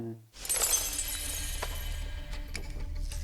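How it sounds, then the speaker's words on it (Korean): Glass window shattering as the opening effect of a film's bank robbery scene: a sudden loud crash of breaking glass followed by scattered tinkling fragments settling, with no voices. "제일 먼저 들려오는 소리가 뭐냐면 유리창이 깨지는 소리예요"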